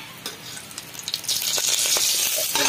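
Lentil dumplings (bari) seasoned only with salt and turmeric drop into hot oil in a kadhai and fry with a steady close sizzle that swells and stays loud toward the end, with no talking.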